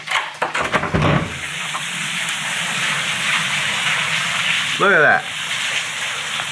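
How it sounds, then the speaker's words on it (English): Heavy rain pours outside in a loud, steady broadband hiss that fills the whole stretch, with a short burst of talk near the start and a brief voice later on. "It's pouring outside right now, guys."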